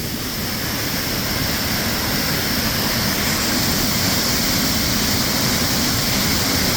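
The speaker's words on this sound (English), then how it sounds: "Wow, listen to that power. Water." A waterfall near Lake Superior on a hiking trail sends out a loud, steady roar of rushing water. The broadband wash stays even and close throughout, with no talk.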